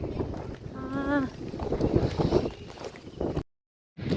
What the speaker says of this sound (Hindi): आप देख सकते हैं कितनी हवा चल रही है